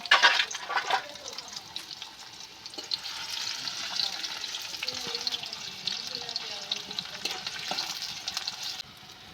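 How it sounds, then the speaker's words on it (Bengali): Onions sizzling in hot oil for a Bengali drumstick-leaf and potato stir-fry, a bright crackling hiss right after they drop into the pan, steady and close with a few scrapes of stirring. "তেল গরম হয়ে গেছে, আমি পেঁয়াজ দিয়ে দিয়েছি।"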